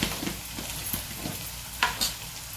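Onion fries in a pan, giving a close, steady sizzle broken by a few soft stirring scrapes and a couple of sharper clinks near the end, with no speech.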